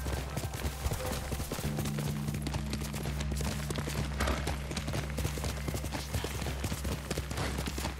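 Horse hooves clip-clop steadily at a trot across eight seconds in Ghost of Tsushima, a dense rhythmic patter close by over a low droning game background.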